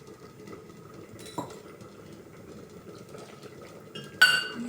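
Soft, steady scraping of a utensil stirring dhokla batter in a metal pot, with a couple of sharper clinks of metal on metal, one near the end.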